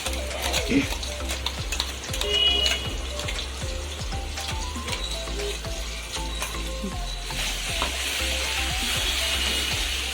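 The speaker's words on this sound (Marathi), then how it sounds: "चांगली तेलामध्ये परतून घेऊया." Chilli sauce sautés in hot oil in a pan for schezwan fried rice, a continuous sizzle punctuated by repeated spoon scrapes and stirring knocks, with the frying hiss swelling louder near the end.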